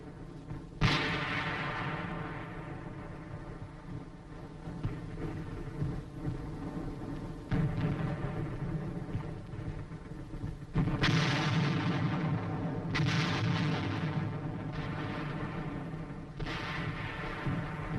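A heavy mortar company fires a continuous creeping barrage of 4.2-inch shells on Hill 1179 during a Korean War assault, with deep booms and sharp blasts recurring at irregular intervals over a steady rumbling din, with no voices.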